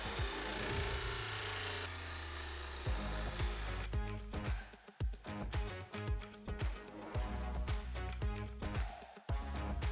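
Blade sharpening machine grinding commercial lawnmower blades, a loud harsh grinding and scraping with rhythmic passes and bursts, close up and without talking.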